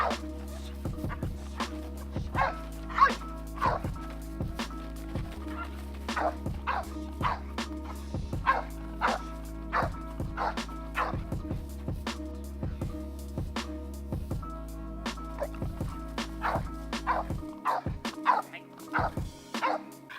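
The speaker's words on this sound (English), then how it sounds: "stay in position and simply display aggression and bark at the threat" A protection dog in bark-and-hold training barks repeatedly at a threat, a rapid steady series of loud sharp barks over a constant low hum, stopping near the end.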